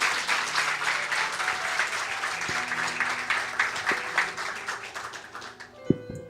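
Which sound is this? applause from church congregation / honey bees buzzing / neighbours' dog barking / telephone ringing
applause from church congregation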